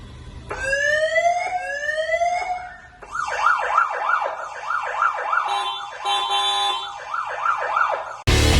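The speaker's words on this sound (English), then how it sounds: "Siren." A security siren fitted to a Suzuki Jimny JB74 4x4 runs loud and close through several modes: rising wails, a rapid yelping warble and a steady electronic tone, ending with an abrupt burst.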